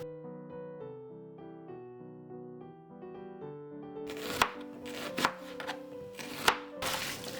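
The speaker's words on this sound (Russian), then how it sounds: "Для украшения нарезаем тонко перьями лук." Rapid knife chops thinly slicing onion strike a cutting board in sharp clusters near the end, over a steady melodic music background that plays throughout.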